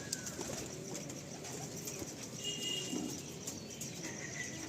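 Pigeons kept in a loft, a mated pair stirring restlessly at dawn, give soft cooing and rustling against a steady hum of background noise, with faint chirps now and then.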